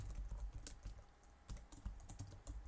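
Rapid keystrokes on a computer keyboard while a git commit message is entered, a steady run of close, soft clicks with no talking.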